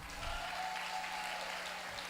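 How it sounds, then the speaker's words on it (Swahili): Audience applause at a national youth leaders' conference in Nairobi, soft, distant-sounding clapping spread evenly across the room with a low steady hum beneath. "Watu wa Nairobi tupigieni makofi"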